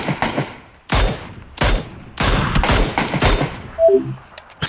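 Sharp gunshots in the video game PUBG on the Erangel map fire one at a time at uneven intervals, loud and close, each followed by a short echo, with a small chiming pickup sound near the end.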